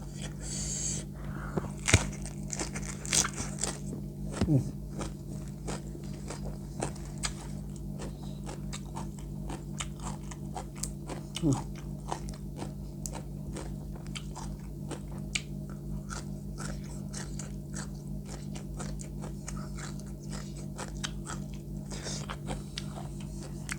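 Crunchy white cabbage eaten alongside papaya salad, giving close, irregular bites and crisp chewing crackles over a steady low background hum.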